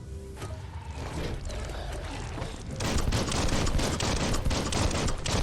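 Dense, continuous gunfire fills a Biomutant game battle, growing louder and busier after the first few seconds with rapid overlapping shots and no talk.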